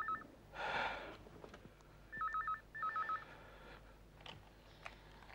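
An old-style telephone rings in short warbling bursts, two rings close together after an earlier muffled thump, fairly faint in a quiet room.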